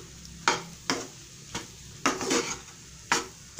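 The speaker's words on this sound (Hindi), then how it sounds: "अब इसे हमें अच्छी तरह से भून लेना है," Green pea filling for stuffed parathas being stir-fried in a pan, with a spatula scraping and clanking against the metal about six times over a soft sizzle.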